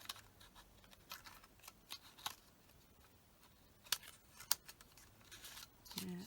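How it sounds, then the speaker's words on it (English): Scissors snip through paper card while making a Halloween card: a series of faint, sharp cuts spaced irregularly over a quiet room background, with a couple of louder snips near the end. "So now I'm going to cut one end."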